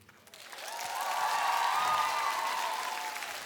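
A concert crowd at a live pop show in Moscow breaks into applause mixed with a sustained cheer. The sound rises quickly and stays loud and dense for a few seconds.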